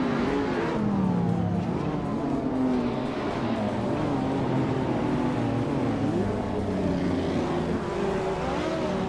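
Several race cars at the Gold Coast track in a racing game, including a 2015 McLaren 540C on pole, roar off the line together, engines droning and shifting pitch continuously and loudly throughout.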